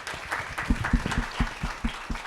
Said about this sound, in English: we have a round of applause for our excellent panel